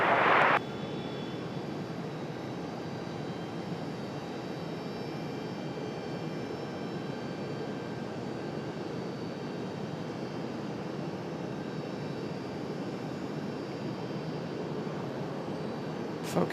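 An ATR turboprop airliner approaching Raleigh-Durham International, a steady broadband engine roar holding at an even, moderate level throughout, with a faint tonal whine above it.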